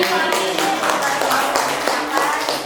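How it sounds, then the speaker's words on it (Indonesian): A group claps hands together at a school gathering, a dense, fairly loud patter of overlapping claps with some voices mixed in beneath it. "Kita tepuk tangan"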